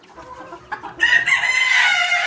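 Desi chickens cluck nearby in a cage on a rooftop, then a rooster breaks into a loud, sustained crow that fills the rest of the moment.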